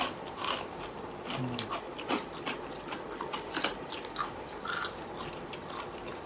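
Spicy pounded noodles, dry and without broth, eaten in big mouthfuls at night, with close, wet chewing and biting sounds continuing steadily throughout.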